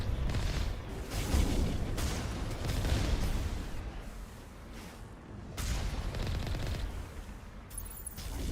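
Geth turrets in Mass Effect fire in loud, continuous bursts of rapid shots mixed with booming impacts, dense and close, briefly dipping before surging again.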